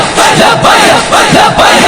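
A large crowd loudly chants the religious slogan Labbaik Ya Rasool Allah in a rhythmic, repeating call, voices massed and close, with a pulsing rise and fall on each line of the chant.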